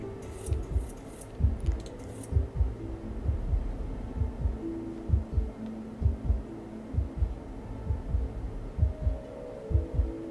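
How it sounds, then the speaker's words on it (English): Steady heartbeat in the video game Immortality, low paired thumps repeating at a regular pace, clear against a soft hum, with faint background tones and no talking. "I'm hearing a heartbeat."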